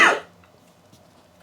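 A single sharp cough bursts out at the start, loud and close, then fades into quiet room tone.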